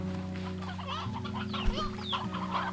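A Stony Chickadee, a creature in the video game Slime Rancher 2, clucks in a string of short, close calls over steady, tonal background game music.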